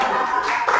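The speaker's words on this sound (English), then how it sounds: "Clap for her and give to her." A room of listeners at a health research ethics lecture applauds a speaker in a short, steady burst of clapping that swells slightly near the end.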